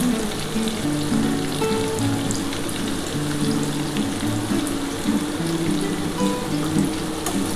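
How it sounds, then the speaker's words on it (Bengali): Onion and tomato with a little sugar frying in a pan for a restaurant-style egg curry, giving a steady, close sizzle with constant crackle that runs unbroken throughout. "আগে চিনিটা দিয়ে একটু ভেজে নিই"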